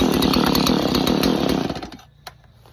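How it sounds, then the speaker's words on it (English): Stihl MS170 chainsaw runs loudly and close for about two seconds, its engine buzzing steadily before cutting out and falling quiet, with one brief click after. "that's how you properly start a chainsaw"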